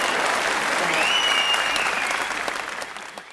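An audience at a Tamil comedy debate event in Cumbum breaks into loud, sustained applause, a dense wash of clapping that holds steady before fading toward the end.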